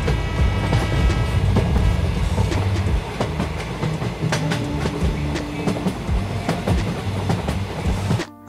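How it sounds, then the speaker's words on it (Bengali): A train rolls through a rail crossing near Mirsarai, loud and close, with rhythmic clickety-clack of wheels over rail joints and rumbling wagons throughout. "আর আমাদের ভাগ্যটা বেশ ভালোই ছিল, সাথে ট্রেনও দেখা হয়ে গেল।"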